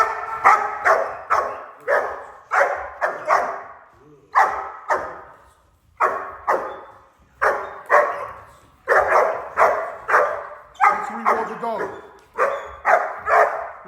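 A German Shepherd in a breeding and training program barks on command in repeated bursts of sharp, loud barks, some quick doubled, separated by short pauses, close to the listener with no talking.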